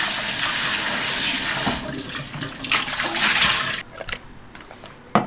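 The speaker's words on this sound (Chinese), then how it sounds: "冷水给它冲洗哈" Cold tap water runs steadily over boiled pork intestines in a sink, a continuous splashing rush that shifts in tone as the stream hits the meat, then eases toward the end.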